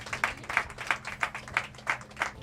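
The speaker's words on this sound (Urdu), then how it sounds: "بہت سی تالیاں ڈاکٹر خالد صاحب کے لیے" An audience at an annual award night and poetry gathering claps in a steady, even rhythm, the beats moderately loud and slightly distant in a hall.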